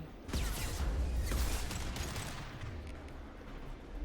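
Gunfire in the sci-fi shooter Mass Effect 2 rattles in a dense, continuous burst of rapid shots, loud and close, then tapers into a lower rumbling tail with no talk over it.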